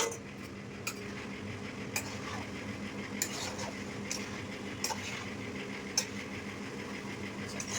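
Pasta is stirred into white sauce in a pan: quiet, close scraping of a utensil with a series of soft taps against the pan, spaced about a second apart, over a low steady background hum.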